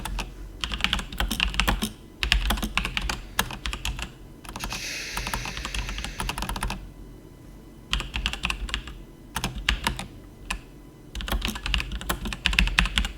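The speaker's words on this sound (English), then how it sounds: "I'm typing to someone in my live chat right now." Computer keyboard typing in bursts of rapid clicks, with a few short pauses between runs, close and fairly loud with no talking over it.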